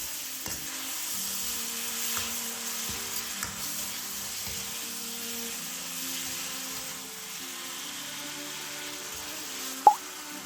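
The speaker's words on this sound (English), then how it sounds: "Quickly stir fry for around 10 seconds until the large scallions are just cooked." Scallions and pork belly with light soy sauce stir-fried in a wok, a steady close sizzle with scraping stirs throughout and a sharp metallic clank near the end.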